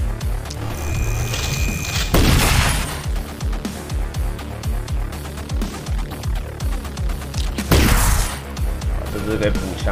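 Gunfire in the turn-based strategy game The Last Spell: two sharp, loud bursts about five seconds apart stand out over a steady bed of game music and background noise.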